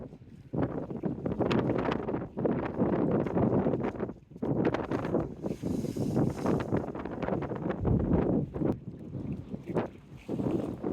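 Strong wind roars across the microphone at the Teignmouth seafront, a loud, continuous buffeting rumble with gusty surges and brief lulls.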